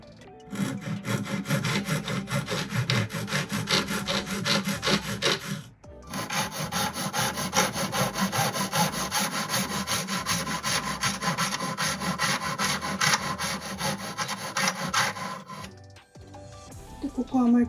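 Steady abrasive grinding and rasping as a modified metal spatula for wax modeling is reshaped to change its angle, loud and continuous with a brief break near six seconds.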